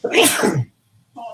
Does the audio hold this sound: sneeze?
yes